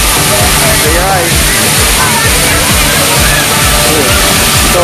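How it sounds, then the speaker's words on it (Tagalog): Waterfall at Gan HaShlosha park, a steady broadband rush of falling water filling the whole clip, loud and continuous, with crowd voices and talk mixed in underneath. "Ayan, ito po yung waterfall."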